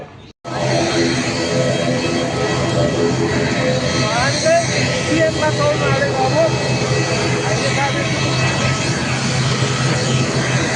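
Turkish Airlines jet engines roar loud and steady at an airport, a continuous broadband rush with tonal whine, while people talk faintly beneath it.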